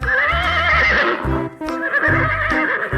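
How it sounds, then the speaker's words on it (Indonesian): A white horse whinnies loudly in two long, shrill neighs over rhythmic clip-clopping hooves in a playful toy or cartoon setting, close and dominant with no talk. "Ini ada kuda putih. Tuk tik tak tik tuk tik tak tik tuk"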